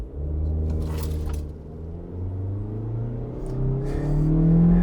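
2022 Toyota Corolla Cross accelerating from 0 to 60 with traction control and AC off: a steady engine drone heard from inside the cabin, pitch rising, dropping, then climbing again, moderately loud with no voices.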